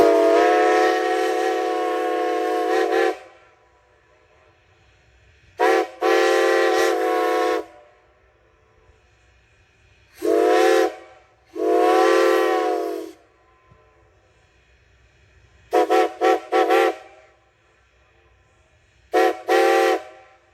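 The six-drum steam whistle of locomotive SRC No. 90, run on a superheated 200 psi boiler, sounds six loud, chordal blasts of varying length, separated by short silent gaps.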